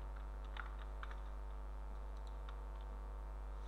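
Password being typed on a computer keyboard during a PHP coding tutorial, a quick run of light key clicks spread over a few seconds against a steady electrical hum, fairly close and soft, with no talking.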